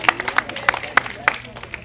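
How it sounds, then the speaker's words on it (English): An audience at a fundraiser gives a brief, scattered round of applause, a handful of distinct sharp claps heard in quick succession for under two seconds. "Give him a round of applause."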